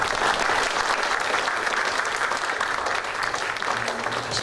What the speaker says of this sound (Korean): 그동안 이제 수고하신 걸 박수로 맞을까요?